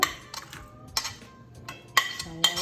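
Urad dal vada batter with ginger, green chilli, curry leaves and salt being mixed in a bowl: intermittent clinks and knocks of utensil against dish, four distinct taps spread over a few seconds, close and fairly crisp, no talking.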